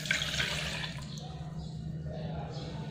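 Hot full-cream milk poured into a mixer jar makes a soft, close liquid splash that is strongest at first and then thins to a gentler trickle.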